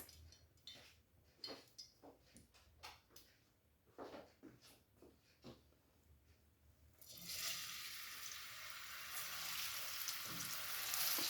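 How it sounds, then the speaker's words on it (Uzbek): Two chopped onions go into half a cup of vegetable oil, heard first as scattered clinks and taps, then as a sudden loud, steady sizzle that keeps going to the end, with no voices. "Yarim piyola o'simlik yog'ini solib, boya to'g'rab olgan 2 dona piyozimizni qovurishni boshlaymiz."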